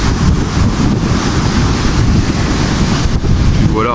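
Large ocean waves breaking on a beach in Crete, a loud continuous roar of surf heavily mixed with wind buffeting the microphone, steady throughout.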